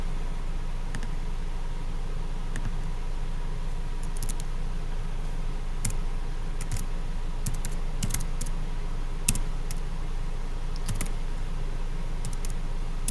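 Fingers type steadily on a computer keyboard, a quiet, close run of light key clicks with irregular rhythm over a low background hum, no voices.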